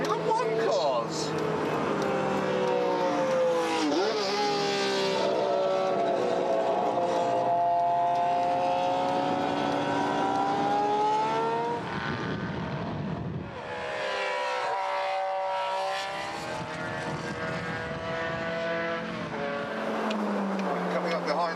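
Mini racing on a track alongside Formula One cars, a loud sustained engine roar with rising and falling pitch as it passes and shifts, continuous and close.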